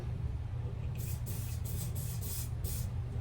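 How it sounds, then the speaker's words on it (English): A spray bottle spritzes hair during a curly closure install, giving several short, close hissing bursts in quick succession over a quiet background. "I'm going to spritz it"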